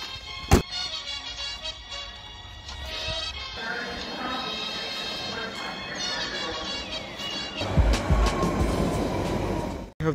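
A train rumbles and rattles with wheel noise, a sharp knock near the start and louder clattering later, no talking.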